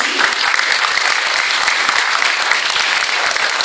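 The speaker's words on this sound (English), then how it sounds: "Please once again give big round of applause to Naomi" Loud, steady applause from a large audience at a formal corporate forum evening event, dense clapping filling the whole stretch without pause and no talk over it.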